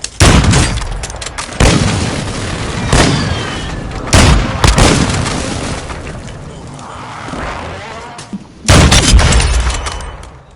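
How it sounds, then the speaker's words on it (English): Airstrike in the video game Warzone, several loud booming explosions landing in irregular succession with rumbling tails and debris crackle, close and heavy. "Friendly airstrike on the way."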